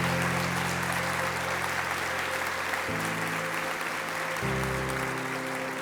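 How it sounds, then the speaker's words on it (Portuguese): A church congregation applauding to Jesus, a dense continuous roar of clapping sustained over a steady low musical drone, loud and even throughout. "Aplaude a Jesus"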